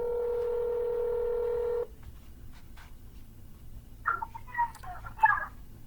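A run of telephone keypad tones sounds as a number is dialed on a cold call, one long steady dual tone and then a quick cluster of short beeps, alone against a quiet line.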